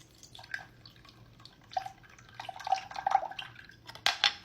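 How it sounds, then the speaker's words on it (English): Milk is poured into a bowl for Samyang noodles, giving soft intermittent trickling and splashing with small clinks, close and fairly quiet, ending in a brighter splash of liquid against the bowl. "then I added milk to my bowl"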